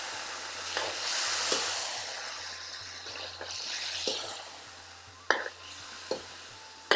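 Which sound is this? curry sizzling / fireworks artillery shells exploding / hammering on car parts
curry sizzling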